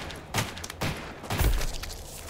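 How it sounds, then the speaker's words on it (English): Video game gunfire in a horror shooter, a few muffled, heavy shots in quick succession, fairly close and loud with no talking. "I shoot my gun while I read?"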